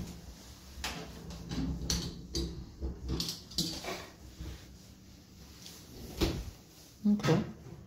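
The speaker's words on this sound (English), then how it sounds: "I'm gonna bust this door open" A door in a house being renovated is forced open, with a series of irregular knocks, bangs and rattling handle clicks at close range, one louder thud near the end.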